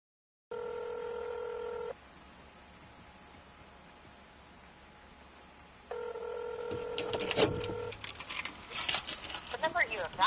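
Telephone keypad tones beep in two short bursts of touch-tone dialing, separated by a quiet hissing pause, followed by rustling handling noise and faint voices near the end.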